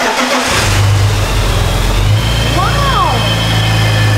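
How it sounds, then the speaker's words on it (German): BMW 325ti with the M54 engine cranking and catching, then idling and revving up and back down, loud and close, with a voice talking over it. "Ich versuche zu starten."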